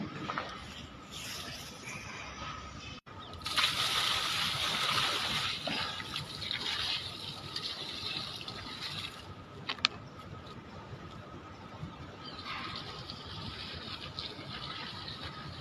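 Water poured from a lifted bucket onto saag plants, a steady splashing and trickling close by, building from a soft start into a fuller wash that runs on for several seconds, then thins toward the end.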